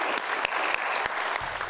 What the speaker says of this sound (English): a big applause to everyone who have participated